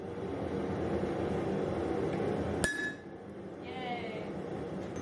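A single sharp metallic hammer blow strikes a personal maker's stamp into a forged Japanese-inspired chisel, ringing briefly over a low workshop hum, followed by quieter clinks.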